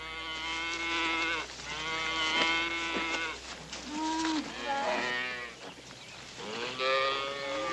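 A herd of cattle moo loudly and repeatedly at a ranch in a classic Western, with long overlapping calls that come one after another and no talk over them.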